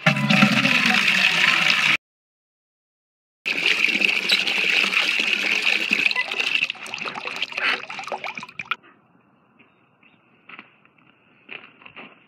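Water poured out for farm birds such as pheasants: a rushing splash for two seconds, a brief gap, then another pour that tapers into trickles and drips, close by.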